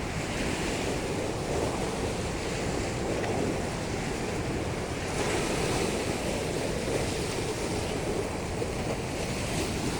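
The Krishna River in heavy flow just below a railway bridge with only two metres of clearance, giving a loud, continuous roar of rushing water mixed with gusty wind buffeting the microphone, steady for the whole stretch.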